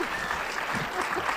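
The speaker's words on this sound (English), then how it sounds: "Please give him a round of applause." Applause for Mr. Ed McNeil at a Stop the Violence community forum, a short, steady stretch of crowd clapping with a faint voice or two mixed in.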